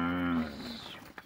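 Cattle low on a farm during a herding walk, a single loud drawn-out moo near the microphone that fades, with faint outdoor noise after.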